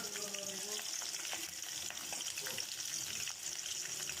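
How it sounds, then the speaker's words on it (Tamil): Green chilies and onions sautéing in a pan, a soft continuous sizzle with faint scraping of a spatula now and then, quiet and close, with no one speaking. "பச்சை மிளகாயும் வெங்காயத்தையும் போட்டு நல்லா வதக்கணும்"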